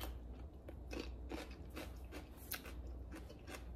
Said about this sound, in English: They don't have that great crunch when you bite into them that I want in a pickle.